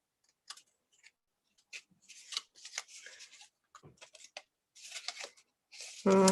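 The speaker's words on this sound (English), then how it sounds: "I'm just going to trim that off to the right spot" Scissors trim a paper card base in short snipping bursts, with quiet gaps of rustling paper between cuts and a louder thump at the end.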